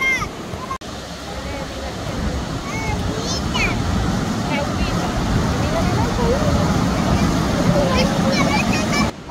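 Sea waves wash continuously onto a sandy beach at Playa Las Flores, a steady broadband surf roar with crowd voices and faint speech mixed in throughout.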